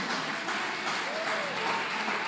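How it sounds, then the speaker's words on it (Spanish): A church congregation at a congress claps in praise, a steady moderate wash of applause with faint voices or a cheer rising briefly through it. "Un buen momento para que le dé un aplauso al Señor en este día."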